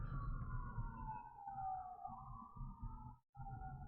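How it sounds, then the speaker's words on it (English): Distant emergency sirens wail in the background, a falling then rising tone that continues faint and steady over a low rumble, with one brief dropout near the end. "Also, sorry for the sirens in the background."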